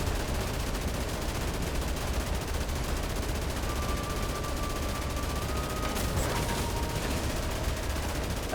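Continuous gunfire while shooting at a boss in Dead Rising Deluxe Remaster, a dense, steady rattle of shots that stays loud and unbroken, with no talking.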